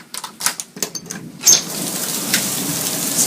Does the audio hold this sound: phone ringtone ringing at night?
no